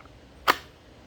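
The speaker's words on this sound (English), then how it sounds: "Now that's the sound of this holster clicking into the trigger guard and securing the weapon." A pistol snapping into a properly fitted holster, clicking into place around the trigger guard: one sharp, brief click in a quiet room.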